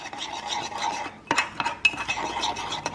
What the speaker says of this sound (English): And you stir.